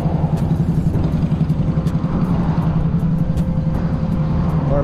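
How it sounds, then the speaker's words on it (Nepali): A loud motorbike engine with a heavy Harley-Davidson-like rumble passes along a quiet road in the Nagoya–Gifu area of Japan, a steady low throbbing drone that fills the whole stretch with no talk over it. "कडा साउन्ड पनि क्या बबाल दिइरहेछ क्या अब त्यो बाइकले"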